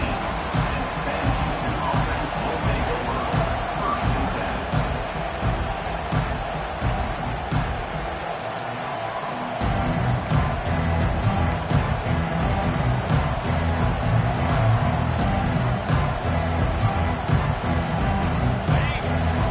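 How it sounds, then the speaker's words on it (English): Steady, dense stadium crowd roar in the video game College Football 25 fills the whole stretch, briefly dipping near the middle before swelling again, with a commentator talking over it. "Listen to the crowd energy here in the early going."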